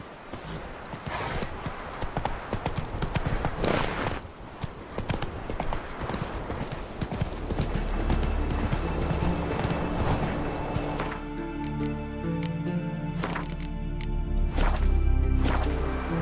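Horse hooves clip-clop at a gallop through a fantasy landscape in The Witcher 3: Wild Hunt, a steady rhythmic pounding that runs the whole stretch with rumbling music and ambience rising beneath it.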